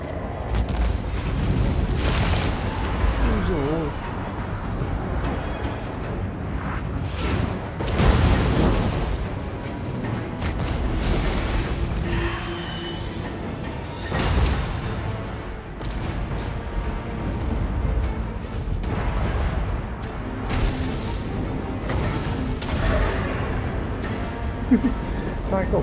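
Artillery cannons and guns fire in Total War Warhammer 2, a dense, continuous battle roar of booms and blasts filling the whole stretch, with a voice exclaiming briefly over it.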